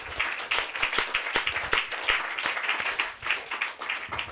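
Congregation applauding during a worship service, steady dense clapping throughout with no voices over it, moderately loud and even.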